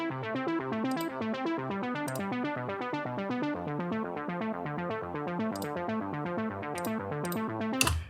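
Layered synth arpeggios in a production ripple in fast, even stepped patterns, bright and busy, with occasional percussive hits punctuating the steady loop before it cuts off.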